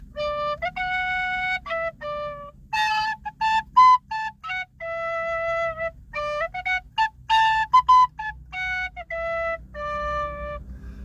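A tin whistle plays a lively tune of short, clear, high notes in quick phrases, close and fairly loud, with no talking.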